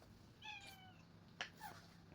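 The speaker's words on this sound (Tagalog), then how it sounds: "Ayan ang pusa ko guys. Na-miss daw niya ako." A house cat meows close by, a few clear drawn-out calls with a short sharp cry in between, over a low room hum.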